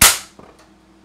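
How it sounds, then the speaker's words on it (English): A staple gun fires into wood while fixing a swallow deterrent under eaves: one sharp, loud snap, followed by a couple of faint small clicks. "Staple this baby on here."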